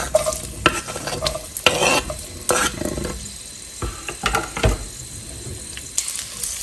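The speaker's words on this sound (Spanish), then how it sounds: "Vamos a utilizar una cacerola a la cual le vamos a agregar un chorrito de aceite. Y mira, le voy a agregar media cebolla en trozos." Half an onion in pieces frying in a splash of oil in a pot, with loud, close sizzling broken by repeated scraping and stirring strokes, and no voices.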